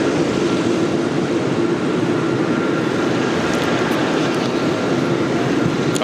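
A Delta airliner takes off from runway 25 right at LAX with a loud, continuous jet roar. The dense rumble holds steady and close throughout, with no voices.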